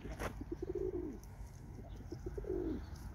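Pigeons cooing nearby, two soft rolling coos separated by a pause, over faint background hum and a brief distant chirp.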